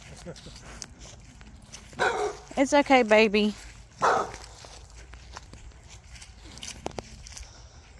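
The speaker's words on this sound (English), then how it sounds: "There's a dog I was trying" A dog barks in a cemetery, a quick burst of several close, loud barks with a couple more shortly after, while a person speaks softly before and around them.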